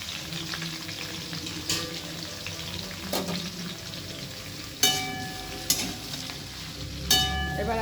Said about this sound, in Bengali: এবার এই যে ছোটো ছোটো করে ডুমডুম করে কেটে রাখা আলু আর ফুলকপি এর মধ্যে দিয়ে দিলাম